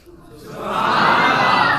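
At a religious gathering in Gujranwala, a crowd raises a slogan in praise of Ala Hazrat, many voices swelling into a loud, sustained collective shout.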